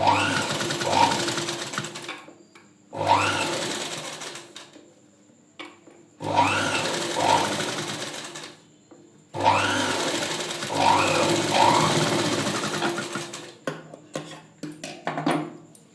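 A sewing machine stitches a strip onto a blouse sleeve in four loud whirring bursts of two to three seconds each, separated by short pauses, ending in a few brief clicks and handling sounds.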